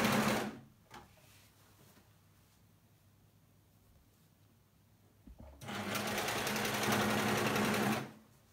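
A home sewing machine running an elastic stitch on stretchy top fabric, with a short burst at the start, a pause, then a loud, steady whirring run of about two and a half seconds.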